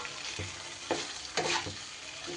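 Fried potato pieces being stirred into sizzling spice masala for a vegetarian cabbage dhokar dalna, with steady frying crackle under a few louder scraping stirs and no talk.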